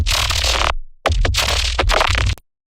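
Heavily sampled, time-stretched bass from a music production project, playing as a dense, loud, gritty texture in two bursts split by a brief gap, alone with no voices.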